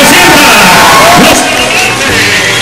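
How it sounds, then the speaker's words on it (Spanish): A large crowd at a political swearing-in rally in Imbert cheers and shouts loudly and continuously, a dense roar of voices and applause close by. "¡Fuerte, fuerte el aplauso! ¡Fuerte el aplauso!"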